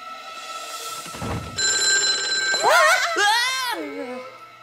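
A telephone in an animated spy cartoon rings with a steady electronic tone for about a second, then lively voices take over as it is answered.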